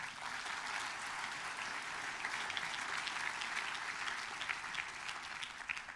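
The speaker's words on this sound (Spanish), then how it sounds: "Denle un aplauso a Jesús." Worshippers in a church congregation clap during a sermon, a continuous, fairly soft and distant sheet of applause that stays even for the whole stretch with no talking.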